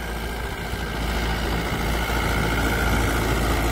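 A Mahindra 575 DI tractor engine runs continuously, a steady low idling rumble with a faint metallic hum, close and unbroken throughout.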